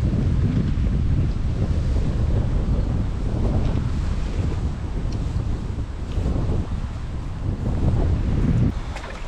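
A small forest stream flows in a steady, broad rush of water, close and continuous, with wind buffeting the microphone.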